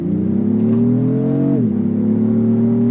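A 2024 Lexus GX 550 Overtrail with a ten-speed automatic accelerating hard in Sport Plus, its engine droning loudly from inside the cabin, pitch climbing steadily before dropping at a quick upshift and rising again.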